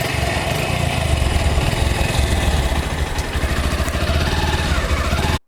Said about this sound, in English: let's take the X-Blade for a ride and check how the 160cc engine